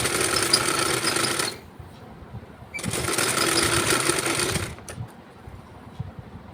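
Sewing machine stitching blouse fabric in two loud, steady bursts of rapid whirring, the second slightly longer, separated by a pause with light handling noises.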